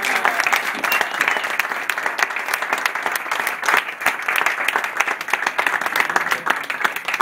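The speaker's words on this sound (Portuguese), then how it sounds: "o mestre Noel Finhi, que está ali um aplauso para ele." An audience applauds a painter at a live performance with double bass, giving seven seconds of dense, bright, continuous clapping from a sizeable crowd with no speech over it.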